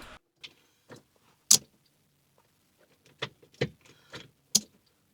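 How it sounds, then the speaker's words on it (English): Sharp mechanical clicks from a Porsche 996 starter relay in short bursts, a single snap followed later by a quick cluster of clicks, close by in an otherwise quiet space. "I can hear the relay clicking, so it is working"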